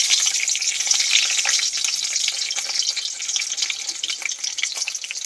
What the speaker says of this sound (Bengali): আমি পরোটাগুলো সুন্দর করে ভেজে নিচ্ছি